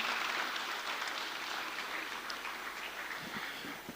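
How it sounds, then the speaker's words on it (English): Steady applause from a summit audience, a continuous even roar of many hands clapping with no pauses. "Do keep the applause going."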